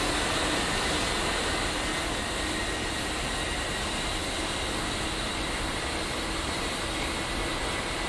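A jet engine spools up in the DCS World flight simulator on the Marianas map, a steady, loud broadband roar with a whining high-pitched tone that holds constant throughout.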